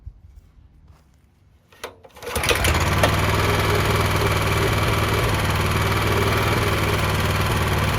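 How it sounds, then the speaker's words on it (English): A Honda FRC 800 rototiller engine starts after a couple of quiet seconds, then settles into a steady, loud, close low idle that runs evenly to the end with no talk. "Start it up one more time. On, low idle."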